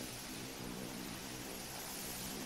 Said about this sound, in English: your plane sounds weird